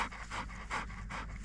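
A dog pants close by outdoors, quick rhythmic huffs repeating about three times in a second and a half, heard alone.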